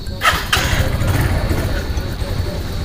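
A brand-new motorcycle engine fires up with a brief cranking burst, then settles into a steady, fairly loud low rumble.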